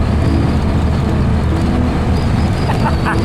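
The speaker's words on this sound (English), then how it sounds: "Wind's blowing pretty hard." A VW with a 1776 single-port engine cruises in fourth gear at about 50 mph, strong wind buffeting the car over a steady, loud low engine and road roar that continues throughout.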